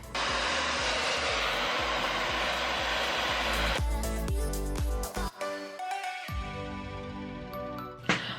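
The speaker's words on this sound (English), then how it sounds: "we're blow drying the roots." A hair dryer blows hair at the roots, a close, steady whooshing roar lasting several seconds before it switches off, followed by quieter shuffling and background music.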